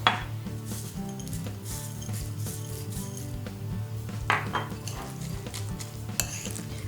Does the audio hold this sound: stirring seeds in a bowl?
yes